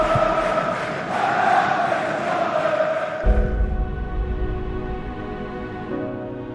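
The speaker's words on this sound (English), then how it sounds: "We took an incredible crowd with us down from Humberside and from all over the country" A large away crowd of Hull City football fans roars and cheers at a match on a boiling hot day, loud and dense throughout, with the crowd noise shifting to a lower, more droning swell halfway through.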